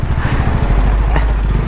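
A motorcycle exhaust rumbles loud and close while riding uphill on a bike trip, a steady low throbbing drone with wind buffeting over it and no talking.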